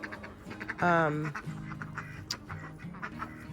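A Pekin duck gives a loud, close burst of nasal quacks in a short run, with quieter quacks scattered through the rest of the moment over a faint background and a brief word from a person.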